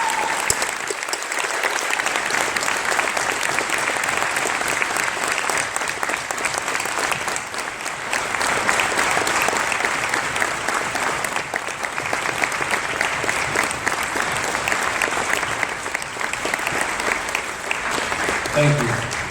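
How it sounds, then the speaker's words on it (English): A school audience at a Veterans Day assembly gives steady, dense applause for standing veterans and service members, sustained and full for about twenty seconds with some voices mixed in. "Let's give them a round of applause."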